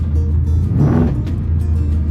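1964 Plymouth with a big block Mopar engine driving on an empty highway, a deep steady low rumble with a brief swell in engine noise midway, heard from inside.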